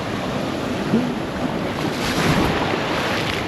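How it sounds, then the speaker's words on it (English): Ocean waves breaking near shore at the end of high tide on an Australian beach, a steady broad roar of surf with wind buffeting the microphone throughout, no clear individual wave crashes standing out. "I always have to tell Chelsea, once you get past where the waves are breaking, it's quite comfortable."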